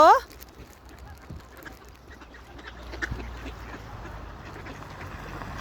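A duck being fed gives one loud, short quack right at the start, followed by a quieter outdoor murmur of birds and ambient noise.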